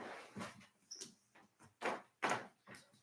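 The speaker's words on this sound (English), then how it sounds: "I just heard a puppy dog bark" A puppy barks indoors somewhere away from the microphone, giving several short, sharp barks in an uneven series that stay faint and with no talk over them.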